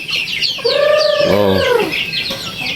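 A rooster of native and Brahma chicken stock gives one loud, drawn-out crow near the microphone, rising and trailing off over a steady outdoor background of smaller birds chirping.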